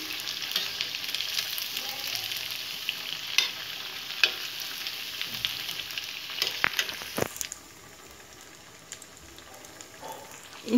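Sabudana vada patties shallow-frying in a pan, a bright continuous sizzle with occasional crackles and a couple of sharp spatula knocks before the hiss drops quieter toward the end.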